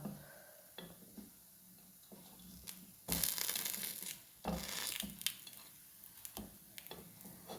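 Snacks cooking in an unniyappam pan are flipped, with scraping, clattering turns over a faint sizzle, and a few louder bursts of frying noise between the quieter moves.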